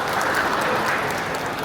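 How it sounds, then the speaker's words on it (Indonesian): A seminar audience at a textile industry event applauds, a brief burst of dense, steady clapping from a crowd. "Tepuk tangan untuk beliau."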